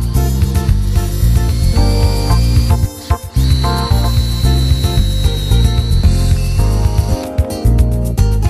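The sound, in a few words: drilling into panels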